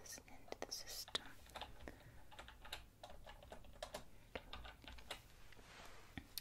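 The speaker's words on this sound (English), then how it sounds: "I'm just going to start typing some of this into the system." Quick, irregular clicks of a computer keyboard being typed on at an eye clinic desk, close and crisp, with soft whispered speech at times.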